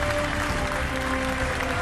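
Dense, continuous applause from a large audience at a Ballon d'Or ceremony, a standing ovation for Lionel Messi, steady and loud throughout.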